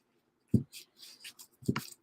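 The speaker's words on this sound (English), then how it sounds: "I love these cards. They're just hard to shuffle." Deck of tarot cards being shuffled by hand, with two soft thumps of the cards and brief papery rustles and riffles between them, quiet and close with no talking.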